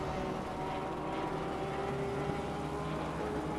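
A BMW race car engine in a racing game, car number 83 climbing the hill toward the Corkscrew at Laguna Seca in qualifying, drones as a steady, loud continuous roar with faint commentary beneath.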